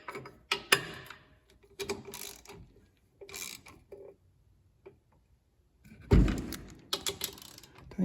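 Bolts being tightened on a Smart Fortwo 451: sharp ratcheting clicks and metallic ticks come in short bursts separated by quiet gaps, with a heavier clunk near the end, close and fairly faint.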